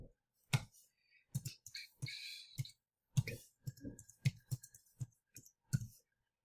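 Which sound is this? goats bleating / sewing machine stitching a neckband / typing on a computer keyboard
typing on a computer keyboard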